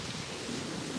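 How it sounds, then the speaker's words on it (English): Wind buffeting a microphone beside ocean waves at sunrise, a steady low rushing roar at fairly low level with no voices. "Sorry about the wind."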